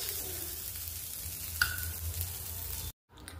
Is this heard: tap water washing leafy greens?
no